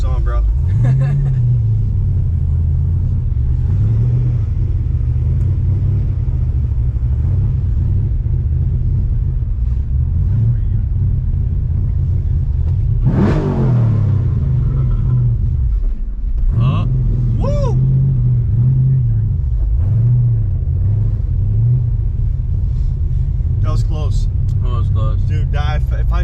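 A manual-transmission car's engine rumbles steadily from inside the cabin while driving, a low continuous drone with small rises as it revs, running under frequent conversation between occupants.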